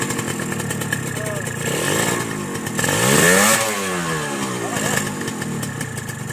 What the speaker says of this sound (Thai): นี่ท่านผู้ชมติดเครื่องแล้วนะ